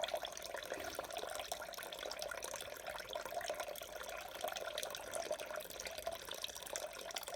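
Steady continuous splashing and trickling of home-brew wort poured gently back over the grain bed of a pale ale mash to filter, close and even throughout with no talk.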